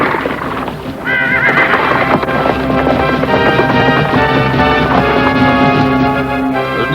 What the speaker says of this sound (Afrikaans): Haai, is dit nie die gemaskerde man se perd nie?